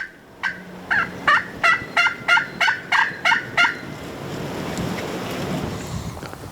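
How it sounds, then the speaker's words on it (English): Wild turkeys gobble in a quick series of about ten loud, evenly spaced calls, then fall silent, leaving a steady outdoor wash like distant surf. "We could still hear them gobbling as they went away for a while"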